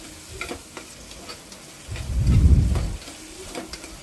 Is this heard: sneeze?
no